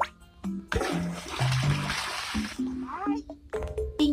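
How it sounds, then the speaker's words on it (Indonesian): A cartoon toilet flushes in a BabyBus bathroom game, a rushing watery whoosh lasting about two seconds amid cheerful game tones and a child-like voice. "Jangan lupa untuk menyiram toiletnya."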